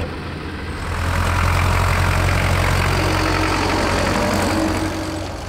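A Schlüter Super 450 tractor with a 48-horsepower three-cylinder engine runs at a farm show, its low, steady idle chugging and knocking close by, swelling slightly after the first second and then holding even.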